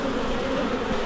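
Honeybees buzzing close at the hive, a dense steady drone of many insects with no pause.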